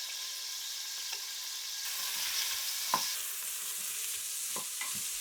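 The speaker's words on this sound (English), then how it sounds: "we're gonna start out in saute mode and cook up some onions and garlic with a little salt" Onions and garlic with a little salt sauté in an Instant Pot on saute mode, giving a faint, steady sizzle with a few soft spoon clicks and stirs.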